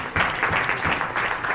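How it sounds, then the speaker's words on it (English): An audience at an official address claps in a short, dense burst of applause, fairly close and even. "I think we should have a big round of applause for all of them."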